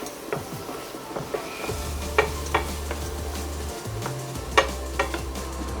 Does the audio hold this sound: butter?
yes